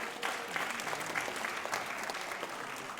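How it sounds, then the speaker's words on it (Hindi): An indoor audience claps to welcome a speaker at a Bindi-Tilak Day event, a dense, steady round of applause from a moderate crowd at medium distance, heard alone without talk. "तो तालियों के साथ इनका हम स्वागत करते हैं।"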